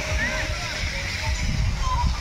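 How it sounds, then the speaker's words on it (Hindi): Fountain water splashing and sloshing steadily in Energy Park Bilaspur, a continuous close wash of spray with faint voices underneath. "ये है भैया फुवारा"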